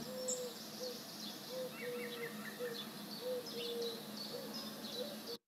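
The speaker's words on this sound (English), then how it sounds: "So you, you hear a lot of birds singing," Several birds sing in an outdoor recording, mixing higher chirping phrases with repeated lower hooting or cooing notes at a steady pace, moderately distant and faint over a soft ambient hiss, ending abruptly.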